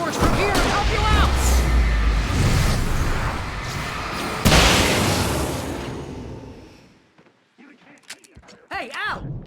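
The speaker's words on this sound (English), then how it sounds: "I can set off more of the fireworks from here and help you out!" Fireworks bursting in Alan Wake Remastered: loud overlapping booms and crackling blasts that pile into a heavy roar, then a sudden sharp explosion that fades into near silence, followed by scattered quieter noises and a voice.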